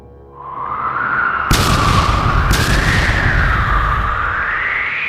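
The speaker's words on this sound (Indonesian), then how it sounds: "Ledakan energi membentuk gelombang kejut yang menyapu segala penjuru." An energy explosion with a sweeping shockwave from a knights' duel battle scene: a rising whine builds, then two sharp heavy booms strike about a second apart, followed by a sustained roaring wash.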